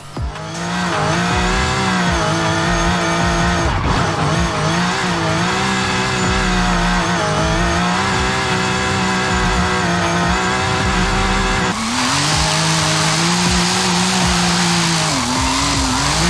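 A BMW M4 set up for drifting in Forza Horizon 5 roars with a loud, sustained high-revving engine note, holding steady and shifting pitch, with tire squeal breaking in near the end.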